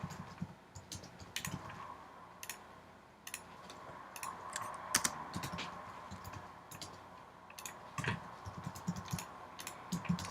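Typing on a computer keyboard, with scattered sharp key clicks in short bursts, close and moderately quiet over a steady background hum.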